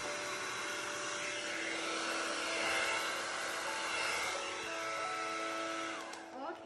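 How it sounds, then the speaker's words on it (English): A hair dryer blows steadily on an acrylic pour painting of an orchid, a continuous loud whooshing hum lasting several seconds with slight swells before easing off at the end. "Any hair dryer would do."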